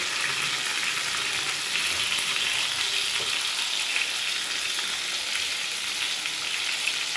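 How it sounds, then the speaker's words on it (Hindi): Halved tomatoes set cut-side down on a pan over a low flame give a dense, even sizzle that holds steady throughout, close and fairly loud, with no one talking. "तो फ्लेम को मैं थोड़ा सा कर दूँगी स्लो और इस तरह से मैं ये टमाटर रखती जाऊँगी।"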